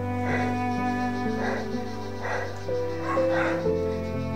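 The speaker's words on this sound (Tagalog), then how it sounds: "Aso, may dala silang mga aso tol." Dogs bark in five short, loud bursts spaced about a second apart over a steady humming background tone.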